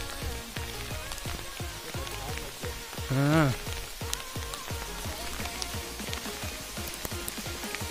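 Steady rain patters on surfaces in a hill area near Nainital, Uttarakhand, producing dense, continuous drops throughout, with one short spoken word partway through.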